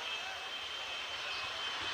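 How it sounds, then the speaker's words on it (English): A Kenworth jet-powered funny car truck, the Heat Wave, runs its jet engine with a steady, loud roaring hiss that holds unbroken throughout. "Ronnie Picardo with the heat wave, Kenworth Jet Funny car."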